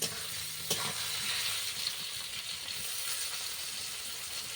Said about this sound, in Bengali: আমটা ভালো করে ভাজা হয়ে গেছে